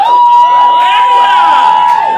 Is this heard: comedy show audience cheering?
yes